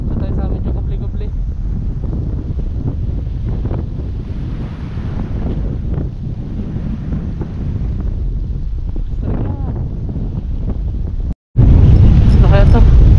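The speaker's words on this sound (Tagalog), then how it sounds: "Kabila yan, sobrang hangin na." Strong wind buffets the microphone out on open water near a fishing boat, a constant loud rushing roar that swells into a heavier blast after a brief cut near the end.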